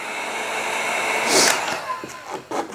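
A heat gun blows a steady, close rushing hiss while warming vinyl wrap on a Tesla Model Y, swelling in the middle and broken by a few brief handling noises toward the end.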